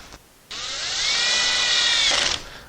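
A power drill drives screws into an Ikea Pax wardrobe, whirring in a single steady burst of about two seconds after a brief quiet start, close and loud, then cutting off.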